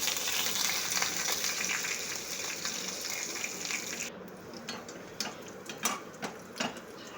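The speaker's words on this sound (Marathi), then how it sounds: "इथे फोडणीची तयारी करूया मोहरी जिरं टाकलेलं आहे कढीपत्ता दोन तीन हिरवी मिरची" Tempering for rava besan dhokla: mustard seeds, cumin, curry leaves and green chillies in hot oil, sizzling as a steady loud hiss that gives way to sharp scattered pops and crackles, with no talk.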